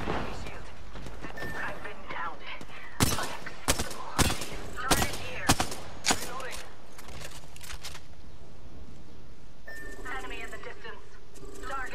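Rapid bursts of automatic weapon fire in an Apex Legends firefight, a cluster of sharp loud shots in quick succession with scattered distant shots before and after, under players' voices.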